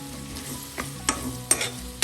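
A spoon stirs a Chinese potato stir-fry (koorkka thoran) in a pan, making a few distinct scraping strokes over a faint background sizzle, with no talk.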